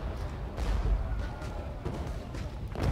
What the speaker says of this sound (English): Our artillery is still firing on Pettigrew and still firing against their artillery.